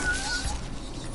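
A cat meows once in the video game Fallout Shelter, a short rising and falling call that sits moderately loud over a low game background, with no talk.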